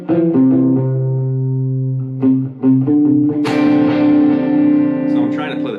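A guitar strums a D minor 11 chord that rings out and is followed by delay echo repeats, sustained tones layering and trailing off with a brighter restrike partway through.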